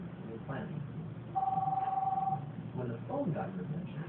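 A telephone rings with an electronic double-tone warble lasting about a second, moderately loud over a steady background hum.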